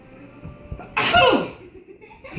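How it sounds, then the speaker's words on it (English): One loud, close human sneeze that bursts out after a few quiet sniffs and breaths, set off by sniffing something, then dies into a brief breathy tail. "I can't stop sneezing."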